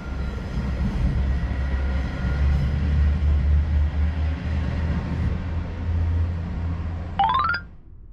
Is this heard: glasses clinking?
no